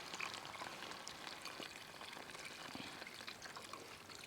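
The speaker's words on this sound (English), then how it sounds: "Now I'll be adding some cream of mushroom soup. And some beef broth." Cream of mushroom soup and beef broth poured into a pot at a cozy camp cooking beef stroganoff, a faint steady liquid pouring and light bubbling sizzle heard up close, with no talk.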